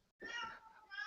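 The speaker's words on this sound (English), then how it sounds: "There's a cat walking by." A cat in the street gives a single drawn-out meow, close and clear, after a brief silence.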